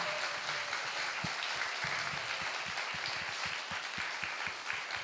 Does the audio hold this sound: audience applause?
yes